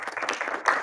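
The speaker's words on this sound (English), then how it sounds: "Thanks for the applause." Audience applause in a presentation hall during an anniversary recognition segment, a brief patter of clapping from many hands lasting under a second.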